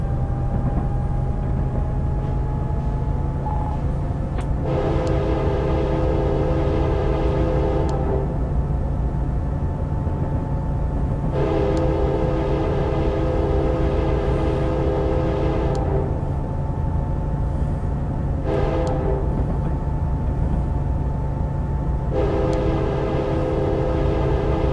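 A BNSF SD70ACe diesel locomotive in Train Simulator 2016 on Stevens Pass powers up, a steady low engine rumble with tonal whine under repeated bursts of horn-like tones across the clip.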